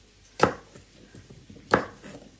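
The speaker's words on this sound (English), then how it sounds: "I'm just going to cut off the end slightly." Kitchen knife cutting the tough ends off asparagus on a cutting board, two sharp separate chops with quiet faint handling in between.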